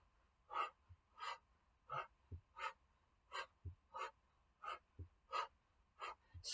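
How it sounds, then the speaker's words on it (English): Slow, steady yoga breathing during a Kundalini sun salutation: about a dozen soft, close inhales and exhales in an even rhythm, with no other sound. "Inhale, exhale."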